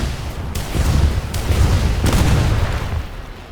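Rockets launched from an A-1H Skyraider in War Thunder, heard as a string of loud booming blasts, roughly four distinct bursts over a steady rumbling drone, with no talking.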